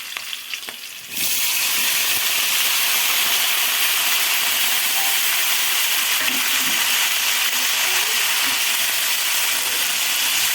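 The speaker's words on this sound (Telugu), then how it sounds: "ఇప్పుడు టమాటో యాడ్ చేసుకోండి." Tomatoes go into onions frying for an egg curry. After a brief quieter moment, a loud, continuous sizzle bursts up close and holds steady throughout.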